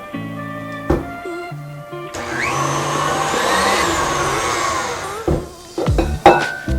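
An electric hand mixer whirs loudly through sticky gingerbread cookie dough, running steadily for a few seconds before stopping. Short clanks and knocks of the bowl and beaters follow near the end.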